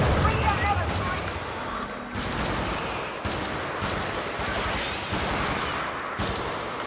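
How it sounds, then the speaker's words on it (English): Video game gunfire in dense, continuous bursts, loud and close, with rapid shots blending into a rattling barrage that pulses through brief gaps, and speech faintly mixed in. "Nice controlled shots."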